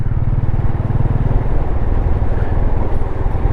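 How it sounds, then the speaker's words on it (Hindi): A motorcycle rides steadily along a road in Ladakh, its engine a loud, close, continuous rumble with rough clattering texture and no talking. "मेरी बाइक जो है सुचित चला रहा है"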